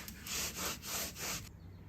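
A cloth soaked in ACF 50 rubbed along the side of a hot rod, giving three smooth back-and-forth swipes up close, then a quiet pause.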